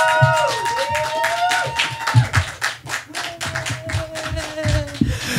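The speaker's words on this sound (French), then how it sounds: "une bonne applaudissement pour Sophie Boucher!" An audience at a French-language humour-writing show applauds a performer, with patchy, uneven clapping heard close up and a voice speaking over it at times.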